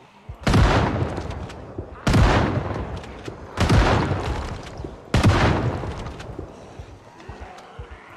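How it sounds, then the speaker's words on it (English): Four loud, booming shotgun blasts against zombies in Project Zomboid, spaced about one and a half seconds apart, each with a long decaying tail. "Shotgun is so loud"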